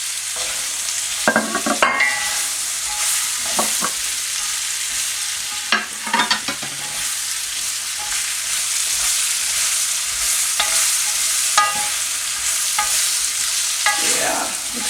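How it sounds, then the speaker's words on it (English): Carrots coated in spices sizzle steadily in a hot pan while a utensil stirs and scrapes them now and then, a constant close frying hiss with occasional knocks. "So I'm gonna let it roast a bit with the spices, kind of to take it all in, the juices."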